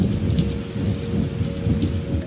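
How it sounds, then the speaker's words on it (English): Heavy overnight rain pours in Hawaii Kai, a loud, dense, constant roar with rumbling thunder underneath throughout a short stretch. "Check out how hard it was raining overnight."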